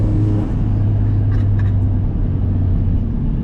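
A VW MK3 with a swapped, tuned 1.8T engine spins its tires in second gear, giving a loud, steady engine roar with low rumble and a brief higher squeal near the middle, no talking.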